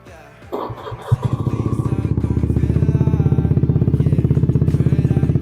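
A Honda Beat FI scooter engine is started with a few thumps and clatter, then settles into a steady, close idle with an even rapid pulse and no voices.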